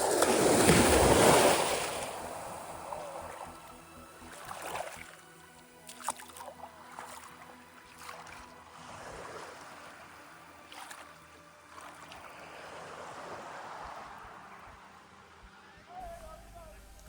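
Sea waves wash in at Keem beach on Achill, Ireland, with an opening surge, then repeated softer swells. Gusty wind buffets the microphone throughout.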